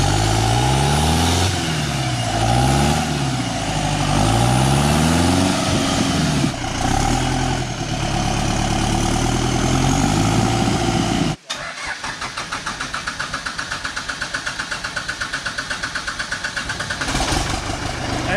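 A diesel Jeep Wrangler engine cranks and catches, its pitch rising and falling through several loud revs. It then drops into a steady, rough, close-up idle with a rattly diesel clatter.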